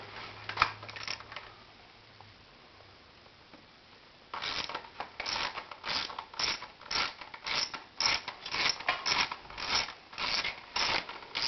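A 10mm socket on a ratchet works on a Honda V65 Magna motorcycle. Faint background hum gives way to a steady run of quick, crisp clicks at close range.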